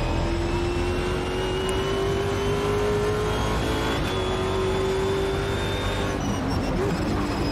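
A V8 race car in the Automobilista 2 video game roars around the Nordschleife, a steady, loud engine drone holding a high, slowly climbing pitch with brief shifts.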